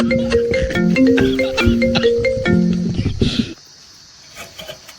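A mobile phone ringtone in a Chhattisgarhi comedy sketch plays a loud, bright melodic tune of repeating notes for about three and a half seconds, then cuts off to near silence with faint background sounds.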